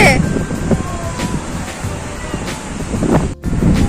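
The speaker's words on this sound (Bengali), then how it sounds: "সমুদ্রের ধারে এখন কি মারাত্মকভাবে যে হাওয়া দিচ্ছে" Strong sea wind at the beach in Digha roars and buffets the microphone continuously, a dense rushing noise with gusts and faint surf-like wash underneath.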